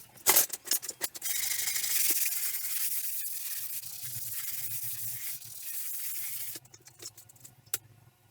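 OSB kitchen walls are sanded with a steady, close, hissing scrape lasting several seconds, bracketed by short rubbing strokes and clicks at the start and end.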